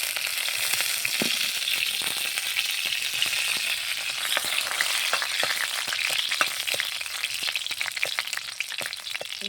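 Crushed garlic and dried red chilies sizzle in hot mustard oil in a wok, a steady close crackling fry with frequent sharp pops and spits throughout, no voices over it.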